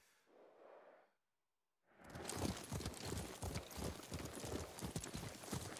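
After a brief breathy sound and a short silence, a steady clip-clop of horse hooves walking at an even pace continues in Ghost of Tsushima, close and clear.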